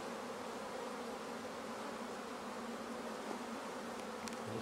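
A swarm of honey bees buzzes steadily for the whole stretch, a dense, even drone that holds at moderate level with no pauses, with no voices over it.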